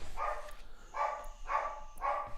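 A dog barks after the doorbell rings, four short, muffled barks in a quick uneven rhythm, somewhat distant against a low background hum.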